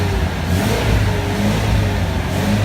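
A car engine revs up in a quick throttle blip from a steady idle of about 900 RPM after an oil change, loud and close, the roar swelling briefly then settling back to a constant hum.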